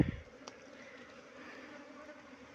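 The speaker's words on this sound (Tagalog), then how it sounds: "Cool na honeybee." Honeybees buzz in a steady, faint drone that continues throughout, opening with a brief thump.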